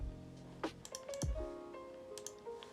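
Keystrokes on a mechanical keyboard: a handful of quiet, scattered clicks alone over a faint tonal background, no talking.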